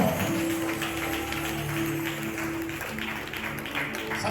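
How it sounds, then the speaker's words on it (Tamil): A church congregation claps hands in praise during a Tamil Christian sermon, a dense, steady patter of clapping running throughout with a sustained musical tone held underneath. "பைபிளை மடியில வச்சுட்டு நல்லா கைத்தட்டி ஆண்டவரை ஸ்தோத்திரம் பண்ணுங்க பாப்போம்"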